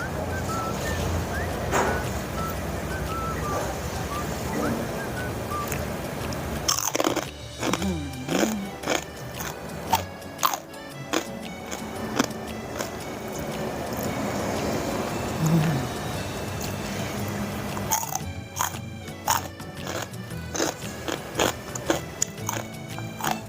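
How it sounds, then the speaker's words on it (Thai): Crispy fried pork rinds, served with chili dip, are bitten and chewed close up, with sharp crunching bursts and quieter chewing between them over a faint background. "กรอบอร่อยมากเลยค่ะขอชิมนะคะ"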